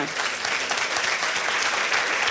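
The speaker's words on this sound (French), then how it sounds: "On peut les applaudir." A hall audience at a Christian women's gospel gathering claps for the pastors present, a loud sustained crowd applause of even intensity throughout, alone without speech.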